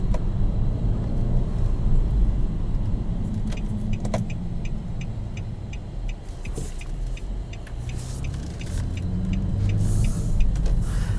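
Inside a 2021 Nissan Maxima SR on the move, a low engine and road drone runs steadily while a series of light, evenly spaced clicks ticks through the middle as the paddle shifters are worked.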